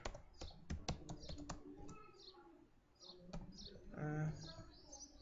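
Clicky computer keyboard typing of a C printf hello-world line, a burst of quick close keystrokes early on then sparser taps, with birds chirping faintly in the background and a brief low hum near the end.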